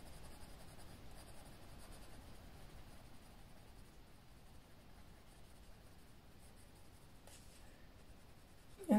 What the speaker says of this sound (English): This pencil's still trying to break on me.